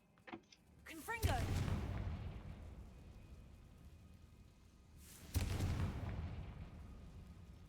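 A Confringo fire-blast spell bursts in Hogwarts Legacy, a loud booming explosion with a rumbling tail, followed a few seconds later by a second heavy blast, with brief voices before the first.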